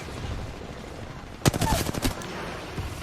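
A quick burst of automatic gunfire in the Apex Legends video game, several sharp, rapid shots clustered mid-clip over a low ambient bed of game noise, with a faint trailing shot afterward.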